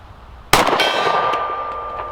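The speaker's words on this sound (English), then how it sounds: "Silver gong, should be no big deal." A bullet strikes a silver steel gong target at a pistol range, giving one sharp, loud metallic clang that rings on with a steady sustained tone and slowly fades, no voices.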